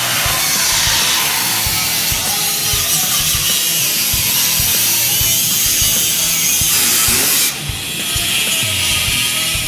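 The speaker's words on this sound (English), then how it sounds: "Cut away the flange section of the trunk floor pan above the bump stop bracket." A power tool cuts through the sheet metal flange of a Mustang trunk floor pan nearby, a harsh continuous rasping whine with rhythmic chatter that briefly pauses and then resumes.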